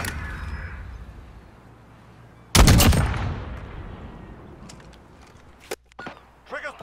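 Video game gunfire: one sharp, loud close burst fades into a lingering echo over quiet background ambience, followed later by a few faint scattered shots and clicks.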